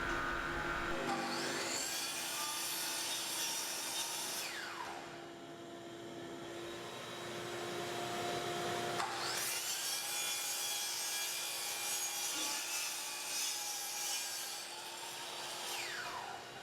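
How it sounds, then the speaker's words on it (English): A power saw cuts a 45-degree angle through hardwood stair nosing, whining loudly in two long passes separated by a brief dip as the blade spins down and restarts, close and with no talking. "Now I'm making 45-degree cut on front nosing from left side."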